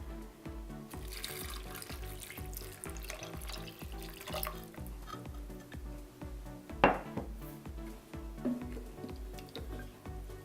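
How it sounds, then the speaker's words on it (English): Low sodium vegetable stock poured into a pot with corn and potatoes, a steady splashing, trickling stream running continuously throughout with a soft gurgle, no talk. "I think we can add our 2 cups of low sodium vegetable stock."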